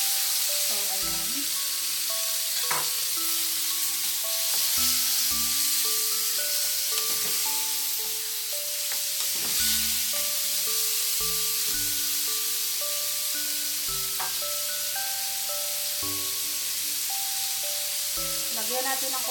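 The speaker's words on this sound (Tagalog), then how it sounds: "Idadagdag na rin natin ang ating marinated na chicken." Marinated chicken for adobo sizzles and hisses steadily in a hot frying pan, with occasional utensil clinks and stirring. A background music melody runs throughout.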